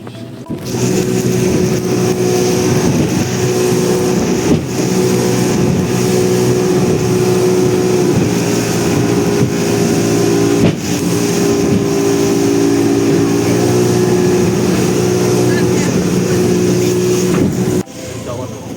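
Steady loud engine drone of a boat crossing from Bali Hai pier to Koh Larn island, a constant motor hum with wind and water noise throughout before it drops off near the end.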